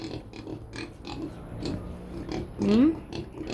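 Pigs grunt and oink in short, soft bursts at a farm resort, one louder squeal-like grunt near the end standing out over quiet background.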